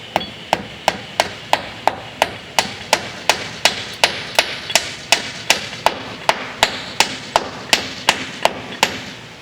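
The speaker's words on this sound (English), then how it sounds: "Big hammer to get them in and the little hammer to finish it." Steady hammer blows strike wooden porch boards about every half second, sharp and close, continuing in an even rhythm with no talking.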